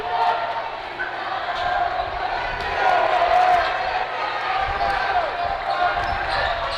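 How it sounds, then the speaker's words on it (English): Crowd noise at a high school basketball game between Niskayuna Silver Warriors and Schenectady Patriots, a steady roar of fans building louder in the middle, with a commentator talking over it and occasional ball thuds. "The crowd of the Silver Warriors getting a little antsy over there, getting loud over there"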